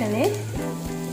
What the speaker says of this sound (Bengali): একটু হিং দিয়ে দিলাম ফোড়নের জন্য।